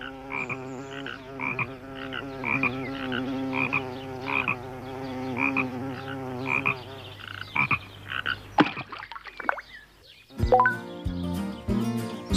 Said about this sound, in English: On Saturday, Tom saw a frog in the pond.